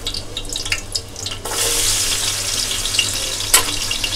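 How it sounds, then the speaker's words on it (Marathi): Garlic dropped into hot oil in a large pot, sizzling loudly and steadily after a sudden onset, with no talk over it. "पहिल्यांदा मी काय घालणार आहे तर लसूण घालणार आहे"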